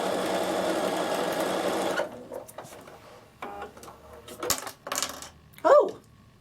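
A Bernina sewing machine with dual feed stitches ribbon, giving a dense, steady whirr for about two seconds before stopping, followed by scattered clicks, taps and handling noises nearby, with no talking.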